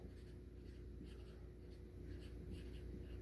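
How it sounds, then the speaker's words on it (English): A dry erase marker squeaks and scratches across a whiteboard, drawing column lines in several short strokes, close and fairly quiet. "So now I'm drawing these columns. I'm using dry erase"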